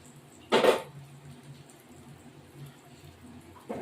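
A lid set over a pot of tilapia fish curry, one short clear metallic clank followed by quiet kitchen background and a second faint knock at the end.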